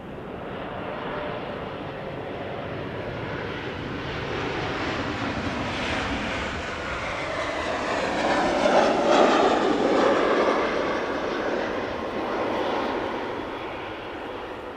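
An 81-year-old propeller aircraft drones steadily in the distance as it approaches to land at Amsterdam Schiphol Airport, its engine growing slightly louder as it draws nearer, with no voices.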